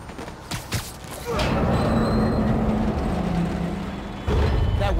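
Trains rolling on rails in a Spider-Man: Miles Morales game scene, a steady loud rumble with clanks and a faint squeal, swelling near the end.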